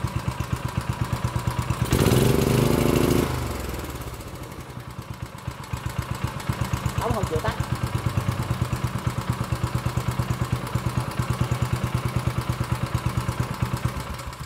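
A Mitsubishi GM181 gasoline engine runs steadily in a workshop, its fast even firing pulses loud and close. A brief louder burst of clattering noise breaks in near the start, and then the engine settles back to a constant throb.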